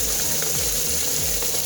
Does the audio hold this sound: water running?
yes